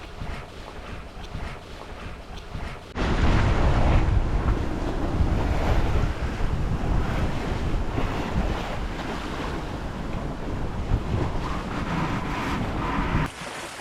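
Wind roars and waves wash steadily against a sailboat heading close hauled, loud and continuous, jumping sharply in strength after a quieter start and holding a broad rushing hiss throughout.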